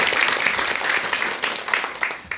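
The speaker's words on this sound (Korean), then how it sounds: "큰 박수와 함께 전현수 박사님의 강의 청해 듣도록 하겠습니다" Audience applause greeting a lecturer at a Korean talk on preparing for marriage, dense steady clapping from a crowd filling the room for a couple of seconds, with some voices underneath.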